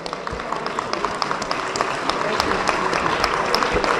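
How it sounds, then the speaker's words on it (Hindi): Audience applause at a lawyers' rally after a speech about the chief justice and the judiciary: a dense, steady patter of many hands clapping with scattered sharper claps, sustained throughout and fairly close. "उनके लिए तालियां।"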